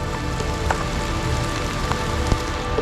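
Steady rain pours down outdoors, a dense, even hiss of drops with occasional louder close patters and no voices.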